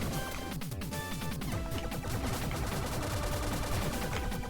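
Rapid gunfire in Blaster Master Zero as shots hammer a turret, a dense, steady stream of repeated bursts over busy game music and effects, with no gaps.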